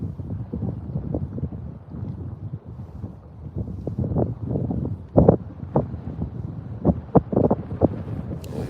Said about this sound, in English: Here come that wind.